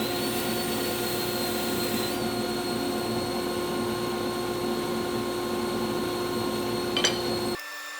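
A belt grinder fitted with a soft felt or leather platen blends the ricasso of a blade. It gives a steady, loud whirring drone with a high whine, then cuts off abruptly near the end.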